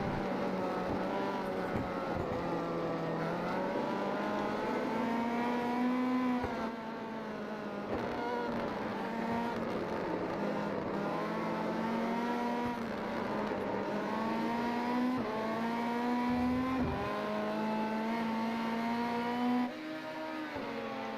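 Rallycross race cars compete in a heat race at Lime Rock, with several engines revving and droning continuously, their pitch rising and falling as the cars accelerate, brake and pass.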